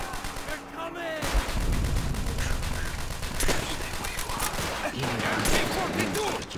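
Loud, dense gunfire in the PC shooter Call of Duty: World at War, with overlapping rifle and machine-gun bursts rattling continuously and sharp louder shots standing out.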